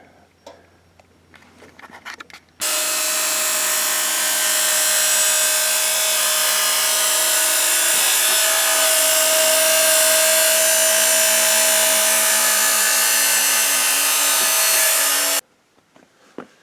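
A power sander with 80-grit abrasive works along the blade of a full-size replica sword, a loud, steady abrasive whir that starts abruptly after a few small knocks, holds for about thirteen seconds, then cuts off.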